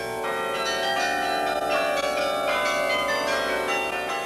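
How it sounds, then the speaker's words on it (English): Riverside Church carillon bells ringing, the smaller bells of a 74-bell carillon chiming in overlapping resonant tones, loud and sustained with no voices. "the smaller bells begin"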